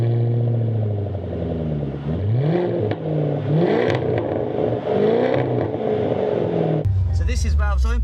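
A Jaguar F-Type P450 V8 with a stainless sport exhaust, valves open, burbles and revs up and down in several swells, loud and close, ending in a sharper crackle as the throttle lifts.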